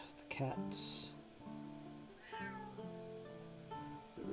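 A pet cat meows repeatedly near the microphone, producing several drawn-out, tonal meows with short pauses between them and a person talking in between.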